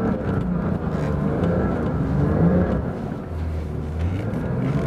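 A Porsche 911 Dakar drives over rough dune terrain, its engine a dense, continuous close-up roar with rumbling, shifting load and no voices.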